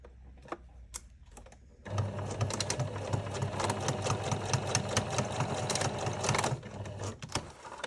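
Sewing machine stitches along the edge of a fabric zipped pouch, a fast, steady mechanical whir that starts after a few light clicks and runs continuously for several seconds before stopping, close and clear.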